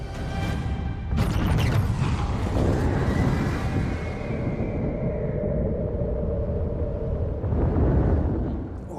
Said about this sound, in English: This nuke. explosion,